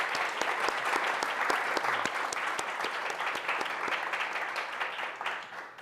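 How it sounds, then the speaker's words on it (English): Steady audience applause following a talk by a Nobel Prize-winning scientist, dense and continuous clapping from a room of listeners that holds an even level throughout with a slight tapering at the end. "but maybe a round of applause for Drew."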